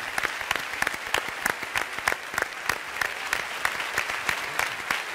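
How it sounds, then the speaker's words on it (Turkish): Studio audience on a Turkish TV talk show claps steadily throughout, a dense patter of many hands at moderate volume with no voices over it. "Rüştü Onur ve Muzaffer Tayyip Uslu'ya bir büyük alkış alalım buradan"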